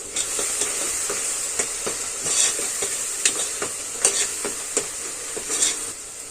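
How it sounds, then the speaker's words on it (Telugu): Ginger garlic paste and turmeric frying in a pan for mutton curry, a bright steady sizzle punctuated by repeated spatula scrapes and taps against the pan, close and fairly loud with no voices. "ఇదంతా పచ్చి వాసన పోయే వరకు మనం ఫ్రై చేసుకున్నాం."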